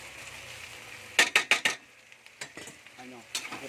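Cabbage sautéing in a pan: a quick series of sharp scraping, clanking stirs of a utensil against metal, followed by softer irregular scrapes and a faint sizzle underneath, close and alone.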